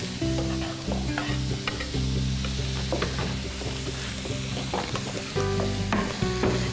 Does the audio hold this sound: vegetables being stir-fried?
yes